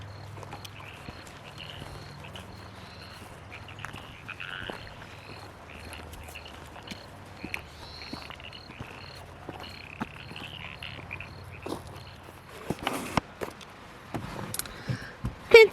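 Frogs croak on rural land outdoors, a low steady chorus humming through the first twelve seconds beneath insect and bird noise, followed by louder handling thumps and rustles near the end.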